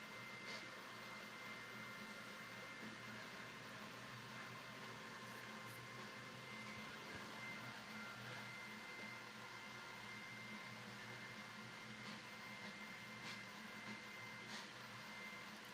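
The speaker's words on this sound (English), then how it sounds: "Are you guys able to hear how loud this printer is?" A 3D printer runs at a constant, loud mechanical whine and hum from nearby, with a steady broadband noise and a few faint clicks from the moving hardware, and no talking.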